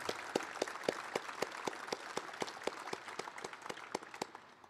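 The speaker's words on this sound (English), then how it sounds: "let's give Kit a big round of applause." Audience applause after a time-management presentation in Iowa, with distinct, fairly sparse claps in a steady rhythm that gradually thin out, moderately loud and without talk.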